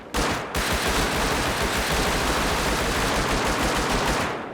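Sustained automatic gunfire in the multiplayer survival video game Rust rattles out as one dense, loud burst of rapid shots lasting several seconds after a brief opening shot, with no speech over it.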